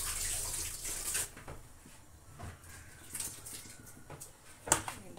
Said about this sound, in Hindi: ये पानी भी उबाल आने वाला है, तो हम इसमें डाल देते हैं अपने ये राइस।